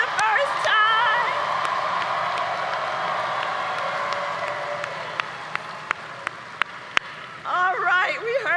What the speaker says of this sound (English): Can we applaud our leaders who are voting for the first time?